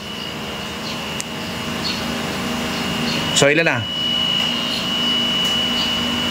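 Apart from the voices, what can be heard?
improvised vacuum pump running on AC gauge manifold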